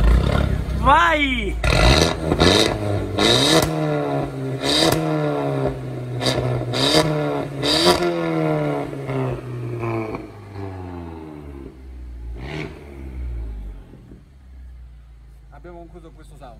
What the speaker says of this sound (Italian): Salutiamo con una bella sgasata.